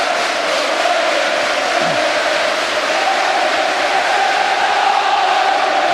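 A football crowd of Wigan supporters in a stadium makes a steady, dense roar of massed voices that holds at one level throughout.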